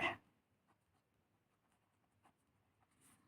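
A pen scratches across paper in a quiet room as a fifth-grade maths problem is worked out, with a loud knock at the start followed by faint, intermittent strokes and a soft brushing near the end.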